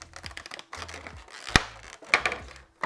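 Unboxing of a He-Man Funko Pop figurine: close crinkling, scratching and tapping of packaging and plastic, irregular and quiet, with a few sharper clicks and brief pauses.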